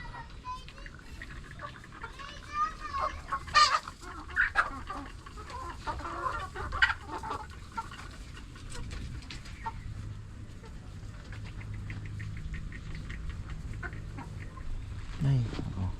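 Chickens clucking on a farm that also keeps Indonesian Muscovy ducks, scattered clucks and squawks over a steady low background hum, a person speaking intermittently.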